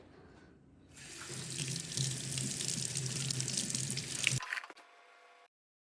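Running tap water gushing into a sink while something is scrubbed with a biodegradable sponge, a close steady splash that stops abruptly, leaving faint drips.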